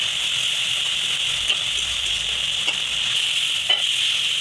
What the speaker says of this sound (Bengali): এবার নাড়াচাড়া দিচ্ছে